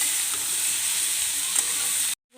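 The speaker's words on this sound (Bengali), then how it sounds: "ভালো করে নেড়ে দেব।" Pumpkin bhaji with a little turmeric, stirred as it fries in a pan: an even, close, continuous sizzle that cuts off abruptly near the end.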